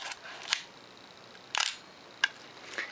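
A film camera's mechanical shutter fires at slow speeds, giving a few crisp clicks spaced about a second apart, some sounding as paired opening and closing snaps, close and otherwise quiet.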